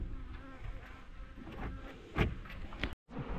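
Honey bees buzz at an apiary hive while supers are added, giving a dense, faint, continuous droning hum. A couple of brief knocks cut through near the end.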